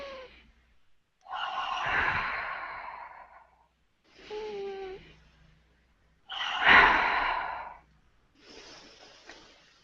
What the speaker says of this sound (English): please take 2 or 3 really big breaths.